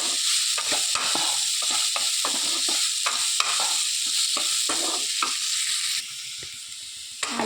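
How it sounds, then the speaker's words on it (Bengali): Diced potatoes fry in spice paste in a pan for a Bengali fish-head chorchori, giving a loud, steady sizzle broken by repeated scraping stirs, with no voices. "এর মধ্যে দিয়ে দিলাম আলুটাকে, দিয়ে আর ভালো করে নেড়ে চেড়ে কষিয়ে নেব আলুটা মশলার সঙ্গে।"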